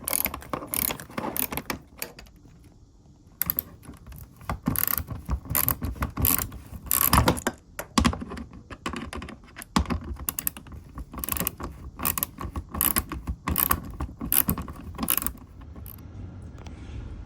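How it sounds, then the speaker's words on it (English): Small ratchet clicking steadily while T25 Torx screws come out of the tank cover on a BMW R1250 GSA motorcycle, close and fairly loud, the rapid pawl ticks in bursts with brief pauses and metallic handling between. "I'm using a small ratchet here just because it's a little easier to get in there."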